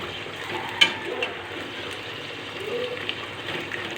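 Onions frying in oil for bagara rice, a continuous close sizzle and hiss with a couple of brief sharper pops and spatters, no speech over it.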